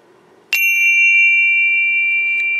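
Meditation chimes are struck once with a sharp attack, then ring out in a bright, steady metallic tone that sustains and shimmers without fading for over two seconds, close and loud.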